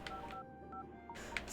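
Telephone keypad tones from a Famicom Detective Club game, a few brief electronic beeps in a row over a steady hum of background game music.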